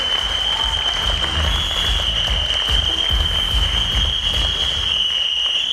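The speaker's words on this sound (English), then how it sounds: "let's put your hands in the air and let's have applause for everybody who" An awards-ceremony audience applauds steadily and loudly, a continuous wash of clapping from a large crowd with a faint high electronic tone running underneath, at an even level throughout.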